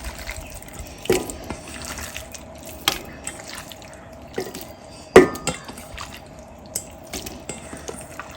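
Liquid pours and drips into a pot of beef biryani being cooked, a soft continuous trickle with a few louder splashes and clinks, close by, no talking.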